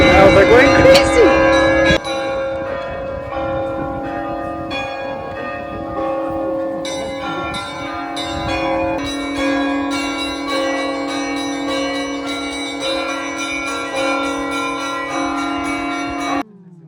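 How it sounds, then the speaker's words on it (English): Bells of the Russian Orthodox St. Nicholas Cathedral in Nice ring loudly and continuously, several bells clanging in rapid overlapping strokes for about sixteen seconds before stopping abruptly. "Wow, the bells are going crazy!"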